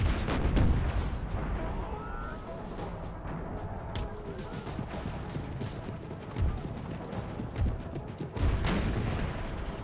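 Cannon fire on an Empire: Total War battlefield, with dull booms scattered through a dense, continuous battle din; heavier thuds stand out near the start and again around the middle and end.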